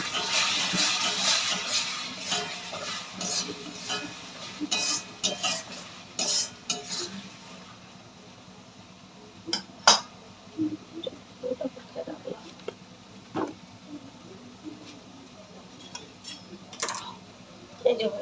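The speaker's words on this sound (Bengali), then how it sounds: "ভালো করে নেড়ে দেবো" Meat coated in ground chilli masala is stirred in a pot, with a busy run of scraping and clinking at first, then scattered sharp spoon taps against the metal that come and go close by.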